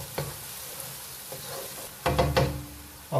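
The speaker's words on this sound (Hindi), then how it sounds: "इसमें डालते हैं हम गार्लिक डाल देते हैं और जिंजर पेस्ट थोड़ा सा इसका करते हैं फ्राई थोड़ा सा हल्का" Onion frying in a pan with garlic and ginger paste, a soft steady sizzle with occasional stirring scrapes, growing louder toward the end as the mixture is stirred vigorously.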